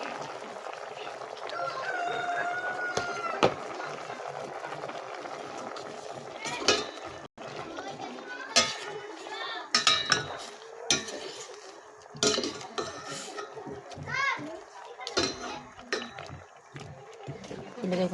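Sea urchins go into a cooking pot of coconut milk with squash and eggplant, making scattered clinks, scrapes and metallic knocks of utensil against pot beneath steady talking.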